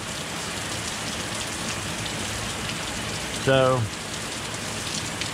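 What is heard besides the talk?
rain falling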